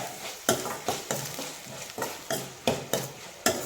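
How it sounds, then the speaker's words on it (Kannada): Two tomatoes frying in a pan for egg gravy, stirred with a spoon that scrapes in about eight sharp strokes at a steady rhythm over a constant close sizzle, with no talking. "2 ಟೊಮೆಟೊ ಹಾಕ್ಕೊಂಡಿದ್ದೀನಿ. ಇದನ್ನು ಫ್ರೈ ಮಾಡಿ"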